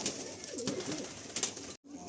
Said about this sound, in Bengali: কিছু মালবাই পায়রা এখানে দেখুন, সুন্দর সুন্দর মালবাই পায়রা এখানে রয়েছে।